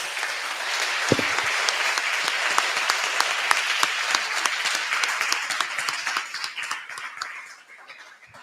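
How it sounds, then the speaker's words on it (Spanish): A conference audience applauds a speaker at a talk on national land policy, loud dense clapping from many hands that holds steady for several seconds and then tapers off toward the end. "yo nada más les pediría un aplauso al doctor"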